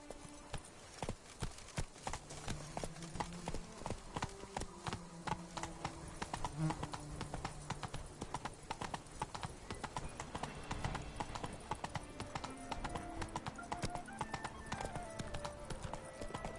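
A horse gallops in The Witcher 3: Wild Hunt, its hooves drumming in a fast, steady rhythm throughout, with faint game ambience running underneath.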